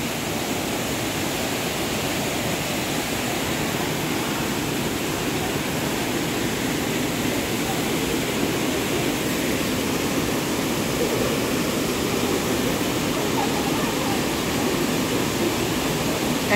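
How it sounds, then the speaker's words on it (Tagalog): A waterfall swollen and clouded after rain pours continuously at a mountain resort, a dense, even rushing hiss that holds steady throughout with no voices. "hindi ngayon maganda ang waterfalls, guys. Kasi nga umulan."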